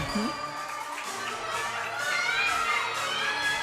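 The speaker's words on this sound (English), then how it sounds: "you can hear her teammates cheering her on in the background" Young teammates cheer for a gymnast preparing for a floor tumbling pass, with high, excited shouts and calls rising over a busy gym crowd at moderate distance.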